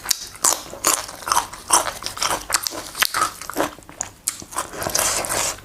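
Crisp, crunchy bites and chewing of fresh raw vegetables served with a Thai grilled mackerel wrap dish, close and fairly loud, repeated irregular crunches throughout with no talk.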